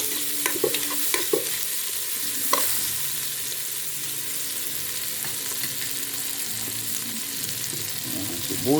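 Chili peppers stir-fried in a hot pan for inasal, a continuous frying sizzle with a few utensil scrapes early on, no talking.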